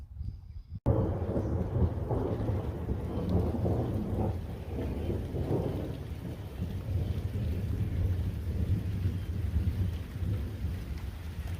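Heavy rain pours steadily while deep thunder rumbles and rolls through, loud and continuous with no voices.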